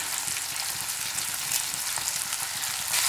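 Onions frying with curry leaves and green chillies for onion pickle, a dense continuous sizzle close up and fairly loud with light crackling throughout, alone without talk.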